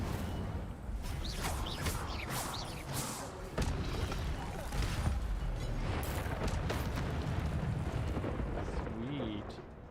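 The Incendio fire spell is cast in the Hogwarts Legacy video game, with repeated whooshing fiery bursts and heavy thuds layered over dense, continuous game combat noise.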